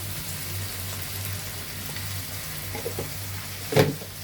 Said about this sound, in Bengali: এখন চিংড়ি মাছগুলো দিয়ে আবার একসঙ্গে ভালোভাবে ভাজবো